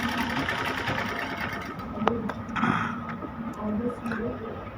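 A sewing machine stitching the cuff onto a small child's kameez for a baby suit runs as a steady, continuous mechanical whir throughout, close and fairly loud, with a few light clicks along the way.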